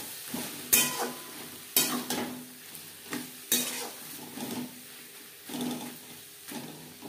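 Chicken goes into a pan of frying spices, with sharp clanks of a spoon against the pan followed by bursts of sizzling and stirring, close and intermittent.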